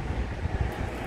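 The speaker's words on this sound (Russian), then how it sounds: "Ветер поднялся." Wind blows outdoors as a steady, faint broadband rush and buffets the microphone with low rumbling gusts, with no voices over it.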